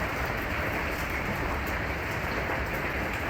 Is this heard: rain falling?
yes